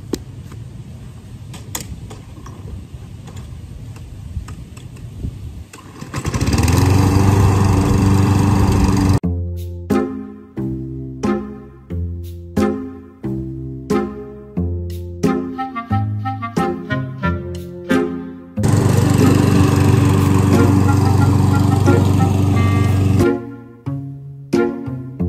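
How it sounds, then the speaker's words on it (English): Lawn mower started up in a yard, with a steady engine roar running loud for a few seconds, then a series of repeated pulls and bumps, and the engine roaring again later, with no talk. "Then you start the lawn mowing."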